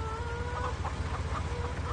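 Chickens cluck softly in the Farming Simulator 17 video game, a steady stream of short, pulsing calls at a moderate distance over a constant low background hum.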